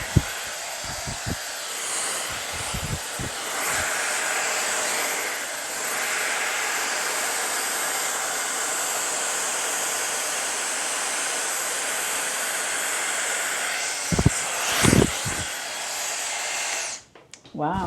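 A Shark Glossi styler hair dryer blowing in a steady, loud, close whoosh of air for most of the stretch, with brief knocks and handling clicks near the start and end before it cuts off.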